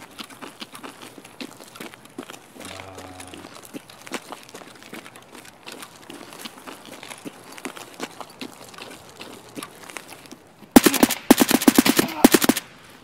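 Automatic gunfire from the shooter game Escape From Tarkov rattles out in loud, rapid bursts near the end, after a long stretch of quiet background movement.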